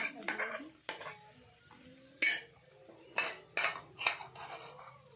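Masoor dal is tipped into a pan, then stirred with clattering spoon-on-pan strikes: a handful of sharp, close clinks and scrapes spread unevenly across a quiet kitchen, with no frying sizzle underneath.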